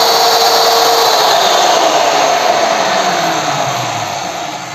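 An ALLSOME BG-5157 drilling-milling machine runs with a loud, steady whining and rushing hum, close by, holding constant before easing slightly toward the end.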